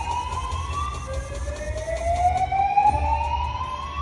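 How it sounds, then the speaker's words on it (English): Casino slot machine jackpot siren wails with rising, sweeping electronic tones, loud and continuous over a steady background hum with no talk. "Those are nothing to be alarmed at, just the sirens going off."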